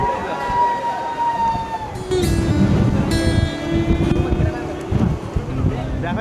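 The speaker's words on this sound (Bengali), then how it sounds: "এত পরিমাণে হাওয়া, তার সাথে সমুদ্রের ঢেউ বাড়ি মেরে পুরো সবাইকে দেখো ভিজিয়ে দিয়েছে।" Strong sea wind and crashing waves at Aguada Fort in Goa, a loud continuous roar of gusts and surf buffeting the microphone, with people talking throughout.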